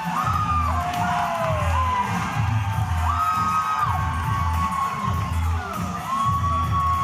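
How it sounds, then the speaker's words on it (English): A live professional wrestling crowd at an OVW show, cheering and shouting as a wrestler finally appears in real wrestling gear. Loud, continuous yelling and whooping with rhythmic chanting fills the arena, and a few voices rise above the roar. "And listen to this crowd."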